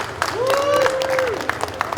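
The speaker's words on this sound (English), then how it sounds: "One more round of applause for our DM, everyone." Audience at a convention improv Dungeons & Dragons show gives a steady round of applause, dense clapping filling the room while a voice talks over it.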